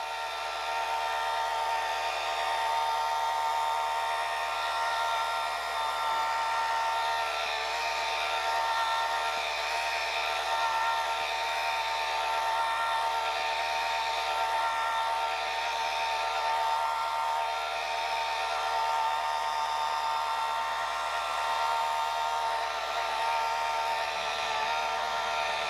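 A polishing machine buffs a granite countertop with a steady, even whirring drone that holds at a constant pitch and loudness for the whole stretch, with no talk over it.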